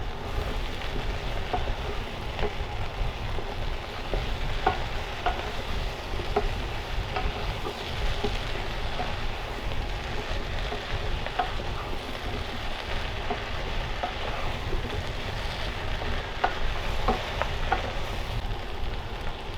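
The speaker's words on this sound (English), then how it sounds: "So in with the beetroot, in with the star of the show. Get that all coated." Beetroot is stirred into a curry base in a pot, frying with a steady, crackling sizzle and occasional scraping stirs throughout, no voices heard.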